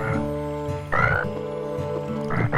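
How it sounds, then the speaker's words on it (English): A cartoon frog croaks at night in loud, drawn-out, pitched croaks repeated in a steady rhythm, with no talking. "Tad doing his night croaking."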